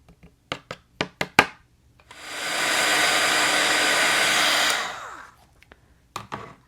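A heat embossing tool blows steadily for about three seconds while melting Alabaster embossing powder on a card, a loud even hairdryer-like roar framed by several sharp taps and knocks before and after.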